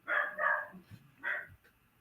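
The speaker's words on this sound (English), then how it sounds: "And now the dogs are going insane." Dogs bark indoors, two quick barks and then a third after a short gap, moderately close and alone.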